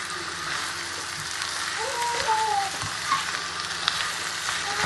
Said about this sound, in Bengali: এখন আস্তে আস্তে অনিয়ন কষো